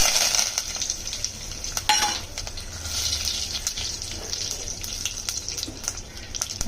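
Mustard seeds, curry leaves, dry chilli and asafoetida splutter in hot oil for a tempering. Sharp popping crackles burst irregularly over a continuous close sizzle, with no one speaking.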